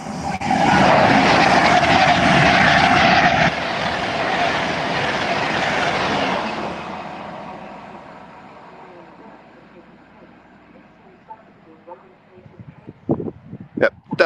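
Pendolino train passing through Acton Bridge station, a loud close rushing roar that fades away over several seconds, followed by faint clicks and knocks.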